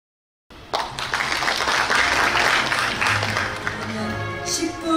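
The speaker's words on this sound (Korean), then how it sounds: "뜨거운 박수로 환영해 주시기 바랍니다" Loud, sustained applause from a symposium audience welcoming a speaker, steady clapping that starts abruptly and continues throughout.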